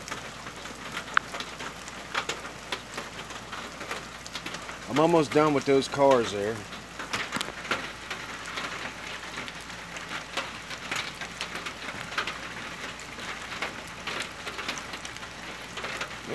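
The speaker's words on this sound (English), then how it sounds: "It's raining pretty good, boys." Steady rain falls outdoors at night, a soft continuous patter close by, with someone talking over it.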